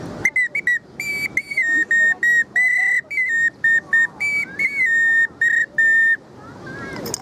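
Whistled tones at a village crafts gathering in Buky, Cherkasy region, Ukraine: a lively run of short, bright, steady-pitched notes with brief gaps, loud and close, over a soft murmur of background crowd.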